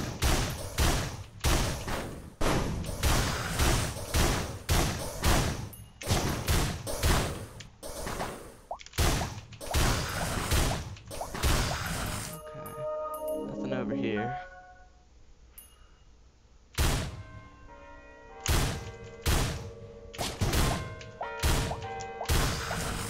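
Repeated shotgun-style blasts from a weapon in the Risk of Rain video game, firing in rapid bursts with short gaps, loud and punchy, alongside other game effects and a brief quieter stretch.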